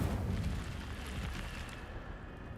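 Incendio fire spell cast in the Hogwarts Legacy video game, a broad rumbling whoosh of magical flame that is steady and low, fading slightly toward the end, with no talk.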